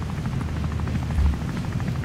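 A video game helicopter's rotor thumps in a fast, steady low pulse, loud and close throughout with no talk.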